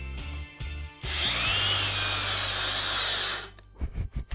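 An angle grinder works metal off a go-kart frame, a loud steady high-pitched grinding that runs about two and a half seconds. Brief clanks come before it and after it.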